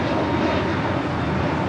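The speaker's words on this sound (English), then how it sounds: "This is JetBlue 188 taking off to Boston on the A321neo." A JetBlue Airbus A321neo roars on takeoff from Los Angeles International Airport bound for Boston, a loud broad engine rumble holding steady throughout.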